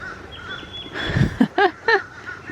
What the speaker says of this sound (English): And some really loud birds.